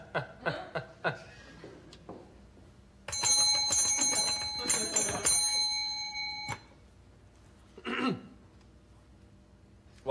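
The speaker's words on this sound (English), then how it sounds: "Aren't you going to ask me why I rang that bell?" A hand bell rung repeatedly in a comic sketch, a bright metallic ringing with sustained tones that lasts a few seconds after short bursts of talk and laughter, then stops abruptly.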